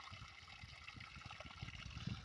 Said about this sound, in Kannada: ಎಂಚ ನೀರು ಜತ್ತೊಂದು ತುಲೆ